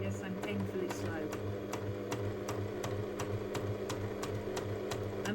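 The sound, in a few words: sewing machine sewing a 1/8 inch seam on the bias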